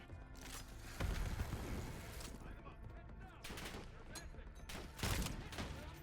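Rapid bursts of gunfire ring out in the shooter Call of Duty: Black Ops 7, loud volleys coming in several waves with reverberant tails and faint voices in the background.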